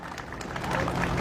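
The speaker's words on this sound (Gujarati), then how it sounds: "એકવાર જોરદાર તાળીઓ આ બધા માટે થઈ." A short burst of audience applause at a mass wedding event in Gandhinagar, a soft, dense patter of many hands clapping that swells slightly toward the end.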